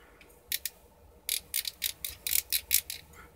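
Plastic joints on a Transformers Galvatron action figure ratcheting as the limbs are moved, giving sharp close clicks, a pair first, then a quick irregular burst of clicks against near silence.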